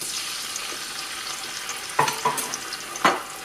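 Chopped onions with ginger and garlic paste fry on high heat, giving a steady hiss and sizzle. A few sharp stirring scrapes near the end stand out above it.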